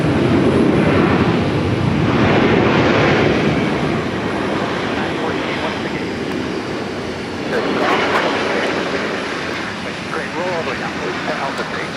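An ex-Northwest Boeing 757-300 jet arrives at Minneapolis–St. Paul, its broad engine roar swelling loudly and then easing off. A voice talks over the engine noise.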